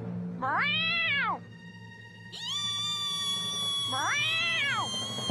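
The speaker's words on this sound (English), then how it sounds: "Meow!" A cartoon cat gives two long, loud, drawn-out meows with a brief squeaky cry between them, heard clearly and alone without background talk.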